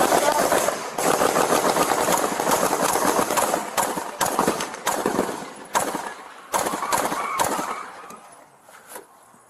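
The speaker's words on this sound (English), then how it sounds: "Central, we got a man with an AK-47. He's shooting at us." AK-47 rifle fire aimed at police during a traffic stop ambush: rapid bursts of loud, sharp shots with uneven gaps, thinning out toward the end, with voices faintly beneath.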